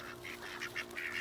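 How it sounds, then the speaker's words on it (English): A flock of runner ducks quacking in a farmyard, several short nasal calls in irregular bursts at moderate distance, with no voices. "And then all of the runner ducks."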